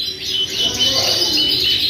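A male YSSF canary in Isabel colouring with slab tail markings sings close by, sending out a steady, high, continuous warbling trill with no pauses.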